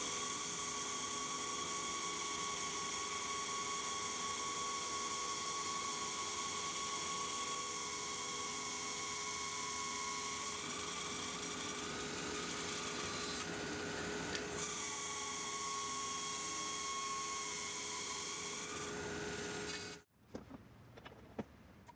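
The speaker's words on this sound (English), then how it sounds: "This Laguna 14 SUV bandsaw is fantastic," A Laguna 14 SUV bandsaw cuts wood with a steady, high, whining drone that holds for about twenty seconds before cutting off abruptly into near-silence.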